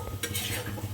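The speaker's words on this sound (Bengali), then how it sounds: "আর হচ্ছে এখানে পরোটা আমি বেলছি, আর ওদিকে বাবা ভাজছে।" Parathas fry in a pan, giving a soft, steady sizzle with brief scraping and stirring bursts up close and no voices.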